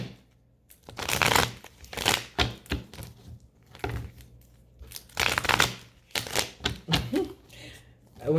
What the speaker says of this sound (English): When I just split the deck, I saw strategy.